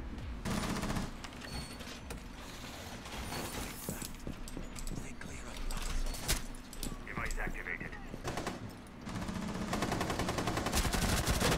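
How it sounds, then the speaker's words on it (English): Gunfire from the video game Rainbow Six Siege, with dense bursts of shots and sharp cracks running through the whole stretch under game noise and players talking. "There are shots going right above me."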